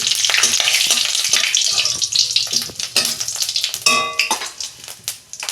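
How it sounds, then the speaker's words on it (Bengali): Whole cumin seeds crackle and sizzle in hot oil for a tempering, a steady close frying hiss broken by sharp pops and a few light clinks of a utensil against the pan. "গোটা জিরে দিচ্ছি ফোড়নে"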